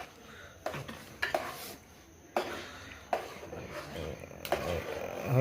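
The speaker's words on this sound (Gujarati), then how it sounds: "જો મિત્રો, ફાઇનલી મેડમે ઘી થવા મૂકી દીધું છે. આ માખણ છે મિત્રો, એનું બનશે દેશી ગાનું ઘી." Butter heating in a pot on a traditional clay wood-fired stove to make desi cow ghee, with intermittent stirring scrapes and metal pot clatter over a soft sizzle, close by.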